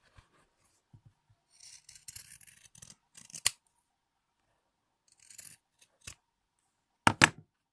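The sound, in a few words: scissors cutting fabric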